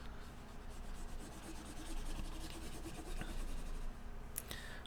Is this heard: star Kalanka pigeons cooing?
no